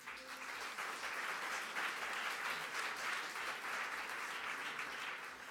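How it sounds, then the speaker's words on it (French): An audience at a Montreal entrepreneurship gala applauds the jurors, a sustained, even patter of many hands clapping, moderately distant and soft, with no talking. "On peut les applaudir."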